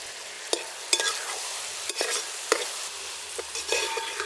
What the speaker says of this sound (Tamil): சின்ன வெங்காயம் வதங்கிட்டே இருக்குங்க